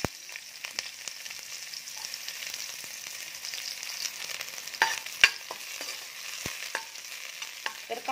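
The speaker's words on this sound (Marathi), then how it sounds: "तेल गरम झाले की त्यामध्ये टाकायचा आहे कांदा." Onion hits hot oil for a Malvani-style chicken curry and fries with a soft, steady sizzle, broken by a few faint clicks and scrapes of stirring in the pan.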